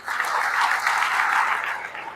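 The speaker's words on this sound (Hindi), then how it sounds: "एक बार अपने लिए जोरदार ताली बजा लो।" An audience at a motivational speech in a lawn venue in Gorakhpur claps loudly for themselves, a continuous dense wash of applause holding steady for a couple of seconds.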